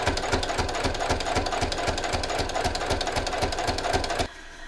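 A sewing machine fitted with a walking foot quilts a straight line on a fall table runner, its needle thumping in a fast, even rhythm before stopping abruptly.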